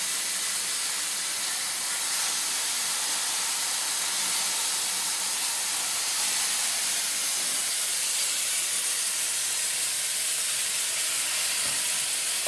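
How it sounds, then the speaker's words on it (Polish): Chicken pieces coated in sauce sizzle on a hot grill pan with a steady, loud, close hiss and spatter that keeps going without a break and carries no speech. "Kawałki kurczaka w tym oto właśnie sosie wrzucamy na gorącą patelnię."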